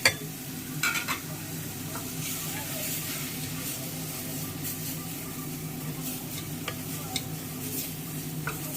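Masala spices fry in a pan for a chickpea curry, giving a continuous low sizzle with a steady hum underneath and occasional light clicks and scrapes of a spoon, close by and without speech.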